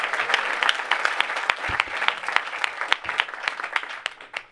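Audience applause fills a comedy magic and skepticism Q&A show, a steady wash of many hands clapping with sharper individual claps standing out, loud and continuous before tapering at the end.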